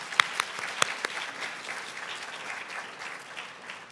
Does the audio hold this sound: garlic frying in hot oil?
no